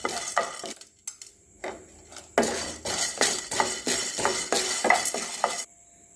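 A utensil stirs and scrapes lentils roasting in a pan for a bitter gourd powder, with repeated close metallic clinks and scraping strokes in bursts, briefly pausing then continuing steadily, no talk.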